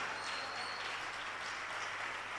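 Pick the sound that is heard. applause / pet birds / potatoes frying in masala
applause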